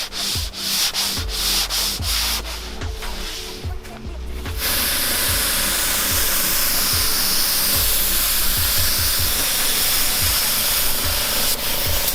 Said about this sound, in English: I did a light sand with 320 grit to get rid of all the rough spots.